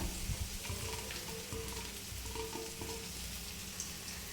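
Mung and masoor lentils frying in hot oil with reddened ginger and black cumin, a dense, even sizzle close up that continues without pause and with no talking.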